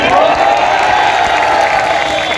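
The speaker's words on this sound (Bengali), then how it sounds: "আর্মিরা আমাদের নিরাপত্তার জন্য এসেছেন তাদের জন্য একটা হাততালি" A crowd of students at a protest rally in front of a commerce college applauds the army, with loud continuous clapping and cheering that sustains throughout, close and dense.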